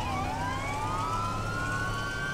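A police siren in GTA V wails with a rising tone over steady engine and road noise, moderately loud and continuous.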